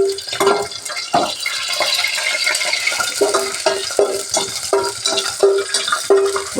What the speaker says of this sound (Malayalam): അണ്ടിപ്പരിപ്പ് ചെറുതായിട്ട് മൂക്കട്ടെ. ഇതിനകത്ത് മൂക്കണം ആ നെയ്യിൽ.